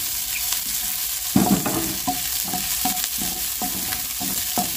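Garlic and onion sauté in a little hot oil, giving a steady sizzle with repeated scraping stirs at an even rhythm, close and loud, with no voices.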